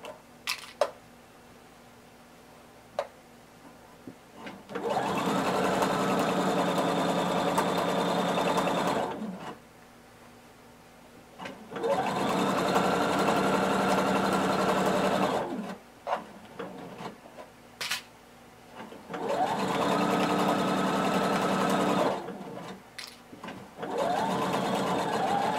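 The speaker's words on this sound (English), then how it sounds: "We're only sewing on these two pieces here. And sewing 3/8 of an inch seam allowance." A home sewing machine stitches blazer pattern pieces with a 3/8-inch seam allowance, running in three steady multi-second bursts with quiet pauses between them, close and alone.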